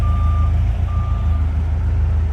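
A forklift unloading a truck in Florida sounds a steady reversing beep, two long tones in a row, over a loud low idling engine rumble.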